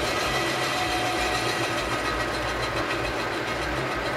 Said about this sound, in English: And I've got 400 RPM now. The same end mill.